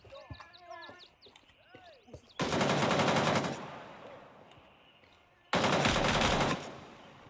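Bursts of automatic gunfire in the Gray Zone Warfare video game, two loud sustained volleys about a second long each, separated by a pause, with a person speaking excitedly beforehand.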